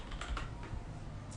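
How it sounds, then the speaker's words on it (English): Fingers tap out a short burst of typing on a computer keyboard, several quick, close-up key clicks in an uneven rhythm. "you're better off just typing part of their name"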